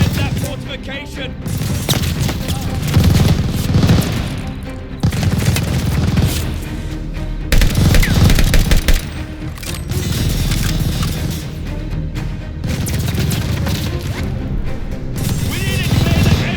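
Machine gun fire in the Call of Duty: Vanguard Operation Tonga mission, a dense, relentless chatter of rounds mixed with heavy booms and crashes, running steadily and loudly throughout.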